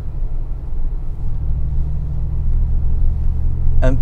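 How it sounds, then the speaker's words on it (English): A 2022 Mercedes-AMG G63 G-Class in Arabian Grey rumbles steadily while driving, heard from inside the cabin as a loud, deep, constant engine drone with no talking over it. "I really love this constant rumble on the background"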